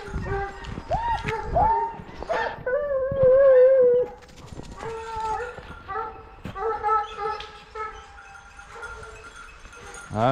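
Hunting dogs baying on a trail during a hunt in Corrèze, France, with 4x4 vehicles nearby; repeated loud, drawn-out howls and yelps from several dogs at varying distances, with people talking over parts of it.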